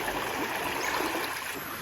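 Water is drawn and poured into a container outdoors on a farm while a carabao waits nearby, giving a steady, close splashing and trickling wash that runs without pause and with no voices.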